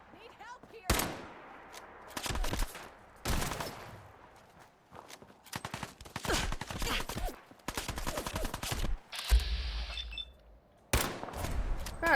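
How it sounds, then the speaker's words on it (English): Sniper rifle shots in Fallout 4 during a compound fight, sharp loud cracks spaced a second or two apart, mixed with other gunfire and footsteps, with voices talking. "God, shooting with the sniper is hard."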